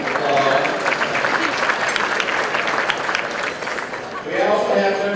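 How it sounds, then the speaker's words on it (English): Sustained applause from a luncheon audience at a mayor's business event fills the room, a dense steady patter of many hands that swells and then tapers slightly before picking up again. "Give them a round of applause."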